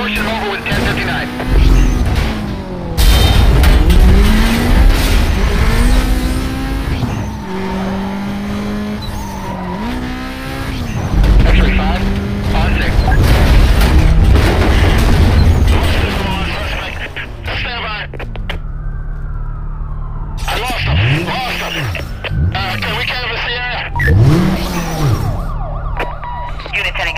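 A blue Lotus is chased by police in Need for Speed: Most Wanted (2005), with a revving engine, shifting gears and tire squeal under wailing sirens, loud and close, while radio voices talk over it.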